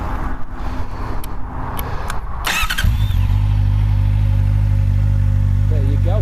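A 2023 Honda CB650R motorcycle with an underslung exhaust starts up close by and settles into a loud, steady, buzzy idle; brief handling noises come just before the engine catches.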